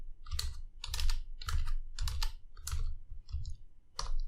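Keystrokes on a computer keyboard as number values are entered into an array in React code, a close series of about seven distinct clicks in bursts, loud and alone with no voice.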